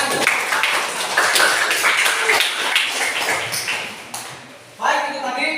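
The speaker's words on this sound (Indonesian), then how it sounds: "Silakan tepuk tangan" Classroom applause from students rises and holds steady as dense, continuous clapping for several seconds, dips near the end, then a voice cuts in over the top.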